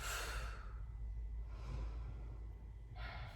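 A long, soft exhale through the nose during a seated yoga twist, faint and close over a low steady room hum, followed by a quieter breath.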